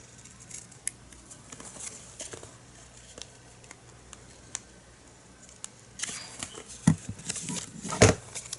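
Scissors snipping paper for a scrapbook journal, a quiet scatter of small clicks and cuts, ending in a couple of louder close snips and rustles.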